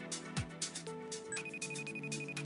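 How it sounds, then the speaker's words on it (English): A phone rings repeatedly with electronic tones in bursts, close and steady, alongside faint background noise and no clear talking. "It'd be nice if you answer the phone."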